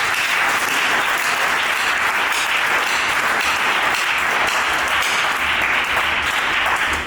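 A church congregation at a Sunday service applauds, dense continuous clapping filling the room steadily from start to finish with no talk.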